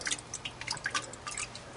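Petite Sirah grape juice runs from a wine press in soft, irregular drips and small splashes, quiet and close, scattered across the short stretch with no talking.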